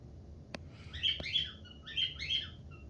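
Pet cockatiels in a living room give two short bursts of bright, high chirps, fairly faint and close, with a couple of sharp clicks before them and no talking.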